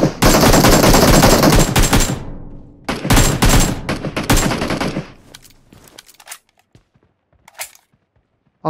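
Rapid automatic gunfire from PUBG Mobile bursts loud and close in dense volleys, pauses, fires again, then trails off into scattered faint shots and quiet.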